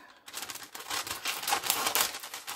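Scissors snipping through a strip of paper cake tin lining, a quick series of close, crisp cuts in a quiet room.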